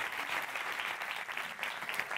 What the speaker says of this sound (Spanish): Fuerte aplauso para Jessica Trujillo